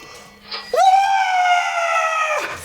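A person lets out a single loud, sustained high-pitched scream that lasts close to two seconds and then cuts off abruptly.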